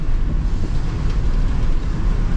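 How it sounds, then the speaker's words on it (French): Strong wind buffets the microphone in a steady, loud low rumble along the Marseille corniche, gusting continuously throughout with no voices. "alors le vent se lève"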